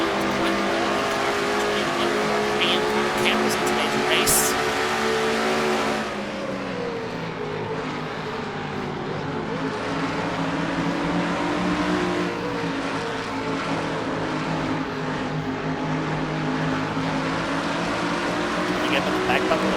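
Onboard a race car at Watkins Glen during a stock car series race, the engine drones loudly and steadily with shifting pitch as it accelerates and brakes, with a commentator talking over it.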